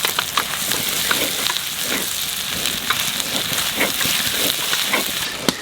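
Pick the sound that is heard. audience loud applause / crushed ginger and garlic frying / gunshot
crushed ginger and garlic frying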